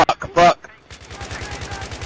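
Video game gunfire in a hallway firefight: a rapid automatic burst of evenly spaced shots, loud and close, with a short pause and a voice talking just before the firing begins.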